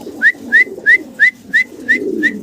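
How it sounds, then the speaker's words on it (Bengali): Giribaz pigeons calling with a steady series of seven short, clear, evenly spaced whistling notes over a soft, low cooing murmur close by. "চমৎকার আরো এক জোড়া কবুতর আপনাদেরকে দেখাচ্ছি, গিরিবাজ কবুতর"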